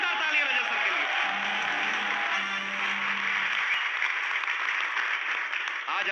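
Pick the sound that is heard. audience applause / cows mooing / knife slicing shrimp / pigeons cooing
audience applause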